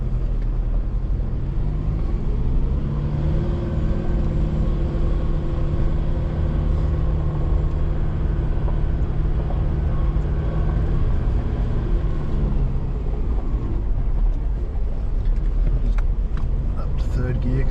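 An off-road vehicle engine drones steadily in low gear while crawling down a steep hill track, a continuous close rumble with harmonic tones that rise and fall as the gear changes.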